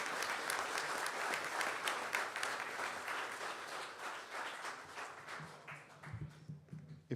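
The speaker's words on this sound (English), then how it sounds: "Let's give another round of applause for these police officers." Sustained applause from a room of people at a city council meeting honoring police officers, dense steady clapping that gradually thins and fades out toward the end.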